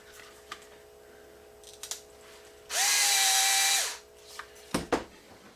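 Power drill whirring in one burst of about a second during a Top Flite P51 ARF model airplane build, close and loud, with scattered handling clicks around it in a quiet room.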